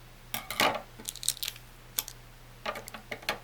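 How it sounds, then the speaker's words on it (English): Scissors snip through macramé cord strands, giving several sharp, close metallic cuts in irregular bursts over a faint steady hum. "now we're going to need some scissors. I am going to cut all 4 strands so they are even."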